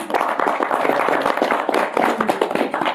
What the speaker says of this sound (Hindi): हम उसके लिए ताली बजा देंगे।